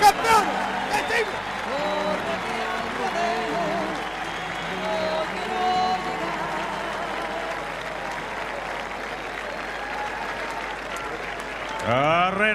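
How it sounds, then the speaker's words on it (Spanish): A large crowd at a national rodeo championship in Chile gives a sustained ovation, steady massed clapping and cheering in an open arena, with a voice talking over it at the start and end. "Nos quedamos con la ovación de este público para los nuevos campeones de Chile."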